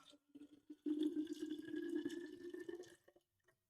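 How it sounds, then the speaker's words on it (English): Water pours from a container in a steady stream for about two seconds, the splashing tone holding bright and close before tapering off, with a few drips just before and after and no talking. "Let me just pour this water"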